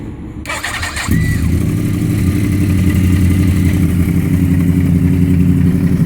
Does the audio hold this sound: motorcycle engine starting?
yes